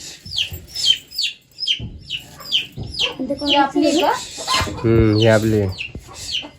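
A household chicken clucking in short, repeated bursts close by, while family members talk over and between the calls.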